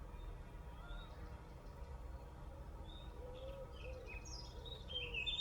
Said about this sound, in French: Connectez-vous au chant des oiseaux, au vent,